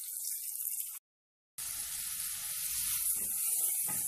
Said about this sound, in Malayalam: പച്ചമുളക് ഉള്ളി ഇഞ്ചി എല്ലാം ചേർത്ത് നന്നായിട്ടൊന്ന് വഴറ്റി കൊടുക്കാം